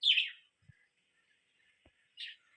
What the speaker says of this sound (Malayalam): കുഞ്ഞുങ്ങൾ വിരിഞ്ഞിട്ടുണ്ട് കുഞ്ഞുങ്ങളുടെ സൗണ്ട് കേട്ടിട്ടായിരിക്കും ചിലപ്പോൾ അങ്ങനെ